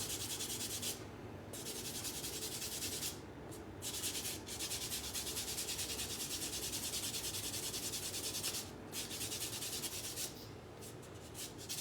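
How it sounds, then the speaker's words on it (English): A 2023 Libertad coin rubbed with the coarse side of a fingernail buffing block, giving a steady close scratchy rasp in repeated strokes with brief pauses between passes. "Now I'll take this fingernail buffing block. It's called a magic block. And it'll start giving this thing a real nice shine."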